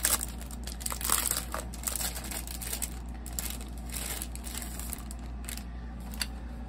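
Sheets of Halloween scrapbook paper crinkle and rustle as they are handled up close, in irregular crackling bursts over a quiet background hum, no talking.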